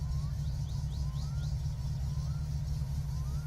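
A car engine in My Summer Car runs as a steady, close low rumble. The idle hum holds throughout, with little sign of a rising rev.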